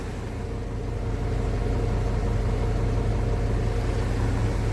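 A Mitsubishi Fuso Canter truck's diesel engine idles close by during mobile DPF cleaning, a steady low rumble that firms up slightly after the first second and then holds even throughout.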